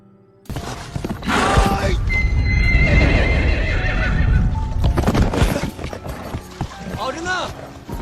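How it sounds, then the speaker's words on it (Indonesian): A horse ridden in a field whinnies loudly and close, with hooves clip-clopping and a voice speaking over parts of it. "Ternyata dia dengan senang hati menunggangi kuda ayahnya di padang."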